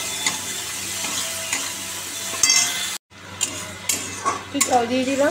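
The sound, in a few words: stir-frying with green chillies in a pan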